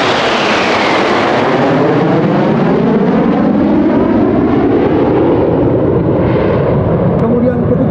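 Military aircraft flying in a V formation directly overhead at an Indonesian Air Force anniversary air show in Jakarta, a loud, sustained engine roar that swells and shifts in pitch as they pass.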